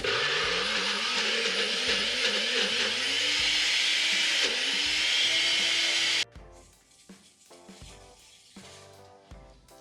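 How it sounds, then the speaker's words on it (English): A blender whirs loudly and steadily for about six seconds blending chicken liver pâté, its pitch wavering as the load shifts, then cuts off, leaving quieter clinking and background noise. "now I blend it"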